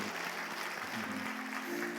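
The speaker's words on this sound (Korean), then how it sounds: "수고하신 분들을 위해서 박수를 한번 격려해 주시면 감사하겠습니다" Applause from a Korean church congregation in Orange County, a steady wash of clapping hands lasting a couple of seconds with a faint voice underneath.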